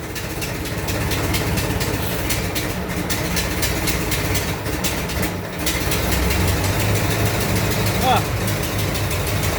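A 1924 Dodge car engine runs loud and close with a steady, rough idle that keeps a low, even rumble the whole time. A voice briefly sounds over it near the end.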